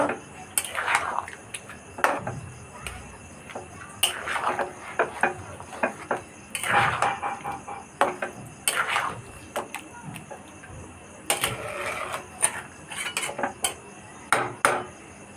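Chicken curry is stirred in a pan with a utensil, giving repeated clinks and scrapes in bursts across the whole stretch. No one talks over it.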